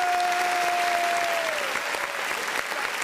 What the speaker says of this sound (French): Applaudissez pour mes musiciens, s'il vous plaît.